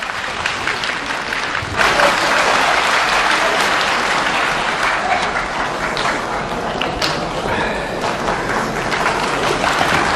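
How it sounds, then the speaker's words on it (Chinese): A theatre audience gives Suzhou Pingtan storytellers a warm welcome with loud, sustained applause, a dense wash of clapping that swells after a moment and holds steady throughout. "让我们热烈的掌声欢迎"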